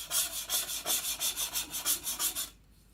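A knife is sharpened on a coarse sharpening stone, about a dozen quick, even rasping strokes in a brisk rhythm, close up and alone, stopping just before the end.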